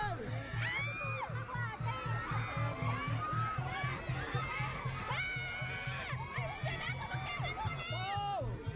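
High-pitched screams and excited shouts from a large gathering of fans greet SB19 at the DAM Tree in BGC, with bursts of louder shrieking over constant chatter and a steady low beat underneath.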